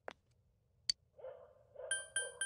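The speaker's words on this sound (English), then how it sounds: "Just the dog." A dog by a riverbank in the video game Persona 4 Golden gives a short, whining vocal sound, with a couple of sharp clicks before it and bright chime-like tones after, all fairly faint.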